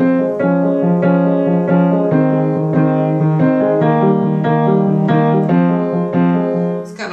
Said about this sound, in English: So that's when you take the chord, you break it up.